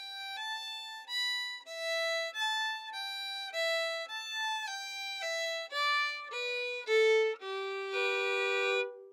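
A bright, solo fiddle plays a short melodic phrase from the tune Lady on a Steamboat, distinct bowed notes, clear and close, moving up toward the end.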